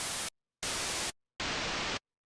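Three bursts of sampled white noise played on keyboard keys, each a flat, full hiss cutting off abruptly into silence, the last slightly longer and a touch different in tone.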